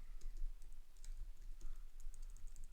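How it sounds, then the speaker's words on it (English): Typing on a worn computer keyboard, quick irregular clicks of keys close by at low volume, with no talk. "Need a new keyboard soon."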